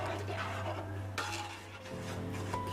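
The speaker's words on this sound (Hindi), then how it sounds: "बस ऐसे ही लगातार चलाते रहेंगे।" Rice kheer stirred in a pot with a spoon, a steady close scraping and clinking of metal against the pan over a low background hum, continuous for a few seconds without speech.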